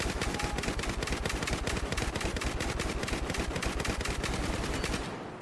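Rapid automatic gunfire from a video game, a dense, loud, continuous stream of shots with steady rhythm for several seconds before tapering off at the end, no voices over it.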